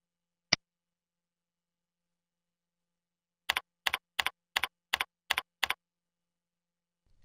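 Short burst of key clicks on a computer keyboard as a login name is typed, about seven quick taps in a row after a single isolated click, near and fairly quiet with silence around them.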